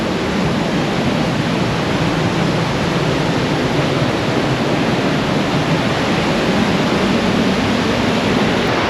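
A lake roars beside a waterfall in Fiordland as steady, dense, loud rushing water fills the whole stretch without letup, heard up close with no voices.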